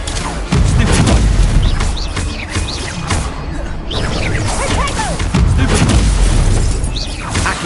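Confringo spell blasts in the Hogwarts Legacy video game burst as repeated loud crashing explosions with shattering debris and whooshes, several impacts in quick succession over dense game effects.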